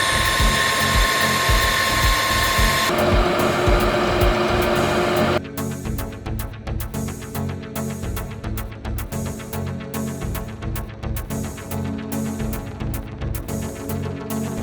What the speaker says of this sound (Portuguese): Maquinei o veio principal no torno mecânico